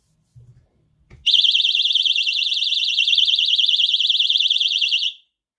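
After a click, a loud, shrill electronic alarm from an under-door doorstop alarm warbles continuously for about four seconds, then cuts off.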